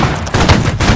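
Loud, dense musket volley fire crackles in a continuous rolling burst of many overlapping shots from a line of soldiers in the Napoleonic-era multiplayer game Holdfast.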